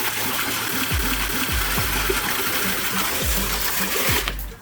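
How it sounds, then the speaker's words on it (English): A submersible pool drainage pump runs as a fountain, its water spray and splashing a steady, loud wash throughout, with a low rhythmic motor thump underneath. "So if you want a water fountain, you can use that"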